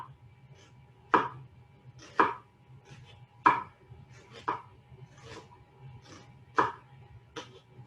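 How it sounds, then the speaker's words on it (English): A knife slicing through an onion on a cutting board, about seven crisp taps landing at an uneven, unhurried pace, close and clear over a faint low hum. "So I'm going to start by making long cuts along kind of where those lines of the onion is."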